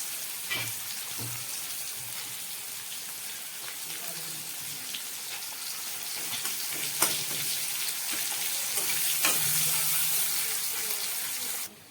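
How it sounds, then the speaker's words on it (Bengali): Sliced onions fry in oil for a fish curry with a continuous crackling sizzle like light rain, broken by a few sharp stirring clinks, close and moderately loud. "একই তেলে দিয়ে দেব কোচানো পেঁয়াজ"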